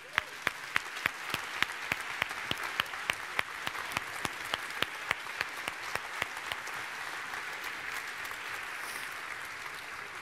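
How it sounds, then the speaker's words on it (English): Moderate applause from an audience at a closing ceremony, a steady wash of clapping with individual sharp claps standing out in a regular rhythm. "Another applause for these guys."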